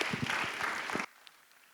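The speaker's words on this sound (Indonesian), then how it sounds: "Ya kita beri tepuk tangan." Brief, fairly quiet applause from a workshop audience at a youth-team training session, lasting about a second before cutting off abruptly to near silence.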